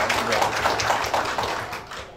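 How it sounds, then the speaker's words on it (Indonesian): Audience clapping at an outdoor PAS 27 political declaration rally, a steady dense patter of many hands with faint rhythmic pulses, fairly loud and continuous throughout. "Tepuk tangan dulu."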